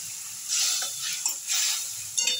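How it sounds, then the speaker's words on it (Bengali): Pieces of bata fish go into a boiling mustard curry, giving soft bursts of sizzle and bubbling hiss in three waves, with a light clink of utensils near the end. "মাছগুলো দিয়ে দিচ্ছি।"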